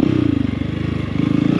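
A car roars loudly in traffic, a close, steady engine drone with fast rhythmic pulsing that holds level throughout, with no voices over it.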